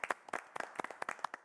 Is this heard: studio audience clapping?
yes